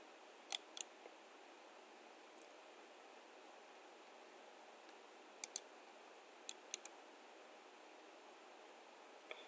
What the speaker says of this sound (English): If I right click here